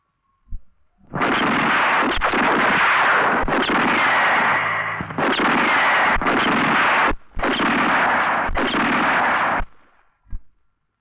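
Rapid bursts of gunfire shot at targets for fun, loud and close, in several long sustained volleys separated by brief gaps, with a single shot trailing at the end.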